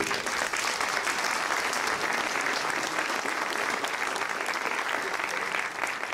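Audience applause at a 2019 New Year's greetings ceremony, a steady, dense wash of many hands clapping that fills the room at even loudness for several seconds.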